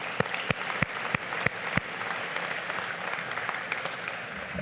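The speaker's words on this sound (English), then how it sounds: "Let's do another round of applause for that." Guests at the MXIBS 50th anniversary dinner applaud, a broad steady wash of clapping from a crowd with several sharp, louder claps nearby standing out early on.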